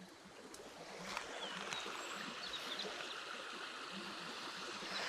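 River flowing beside an old bridge in rural central Portugal, a steady broadband rush of moving water with constant level throughout, faint scattered bird chirps above and no voices.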